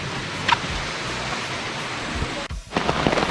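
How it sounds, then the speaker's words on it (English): Rain pours down steadily as a dense hiss on an outdoor cooking spot in Bluefields, Westmoreland, with a low rumble of thunder rolling underneath and a brief sharp crackle near the start. "Look at here, rain come down."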